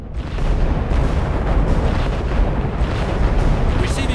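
Booming bursts of artillery fire roll through a World War II battlefield in the strategy game R.U.S.E., a dense, continuous barrage of blasts and rumbles layered over one another with no pauses.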